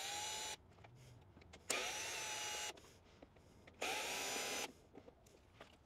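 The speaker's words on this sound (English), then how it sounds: "There is one, two, three, four Phillips that we'll have to undo." A power drill backs Phillips screws out of a Razor dune buggy in two sustained whirring bursts, with quieter clicks and handling noises between them.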